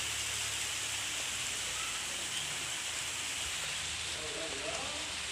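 Rain falling steadily outdoors, a constant broadband patter and hiss at moderate level with no breaks, faint sounds mixed underneath.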